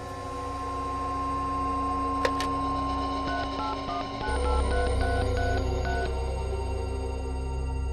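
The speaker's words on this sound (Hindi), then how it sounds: "नीलिमा, जरा अमित को फोन करो, देखो तो कहां पर है वो" A string of electronic touch-tone beeps sounds in quick succession as a phone number is keyed in, followed by a low hum.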